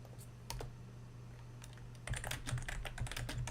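Typing on a computer keyboard during coding work: scattered single keystrokes at first, then a quick burst of clicks, close and fairly quiet over a low electrical hum.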